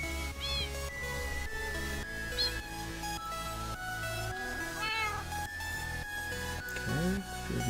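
Several Minecraft cats meow in quick, overlapping calls over steady game background, some cries rising high and a louder cluster near the end, with faint talk mixed in.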